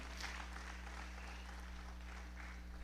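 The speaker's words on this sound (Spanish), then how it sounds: "Le das otro aplauso al Señor." Church congregation applauding during a Spanish-language service, a faint, steady wash of scattered clapping over a constant low hum, with no pauses across the short stretch.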